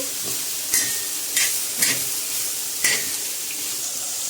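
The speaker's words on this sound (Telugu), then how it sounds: "ఇవి మొత్తానికి బాగా పచ్చివాసన పోయేంత వరకు బాగా వేగాలి" Brinjal and a bay leaf frying in a pan with a continuous hiss, broken by four sharp spoon-against-pan stirring clacks spaced about a second apart, close up and with no voices.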